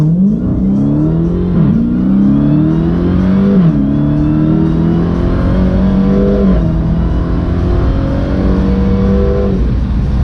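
A car accelerates hard in a drag-race pull, its engine loud and close as it climbs steadily in pitch, drops at each gear shift through several gears, then climbs again, with no talk.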